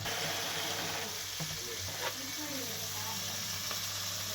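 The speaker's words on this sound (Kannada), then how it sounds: "ಇವಾಗ ಒಗ್ಗರಣೆಗೆ ಹಾಕ್ಕೊಳ್ತಾರೆ ಅದರಲ್ಲಿ" Tempering ingredients sizzle in hot oil for a Karnataka country chicken sambar, a low continuous frying hiss with a few faint clinks and a quiet hum beneath.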